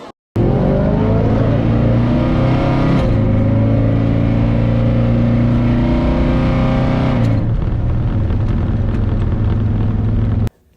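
A race car with traction problems makes a test-and-tune pass down a drag strip. Its engine roars loud and close, starting abruptly, shifting in pitch as it accelerates and cutting off sharply after about ten seconds, with no talk.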